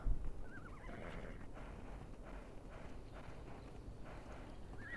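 A horse in the mobile game Ark neighs and whinnies while its hooves clip-clop at a steady run, loud and continuous with no talking.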